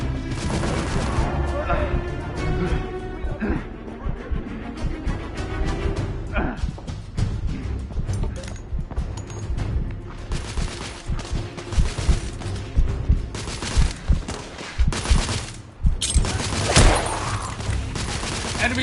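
Video game battle with a grenade explosion and bursts of gunfire, sharp loud shots crowding together amid a heavy boom, under excited shouted talk throughout.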